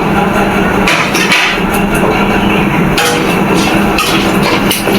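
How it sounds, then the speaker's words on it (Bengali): Small cardamom pods being cracked open for a katla fish roe curry with potato and pointed gourd: several sharp, close cracks and taps over a steady, loud kitchen background. "এলাচগুলো ফাটার সম্ভাবনা থাকে তাই আমি এলাচগুলো ফাটিয়ে নিলাম"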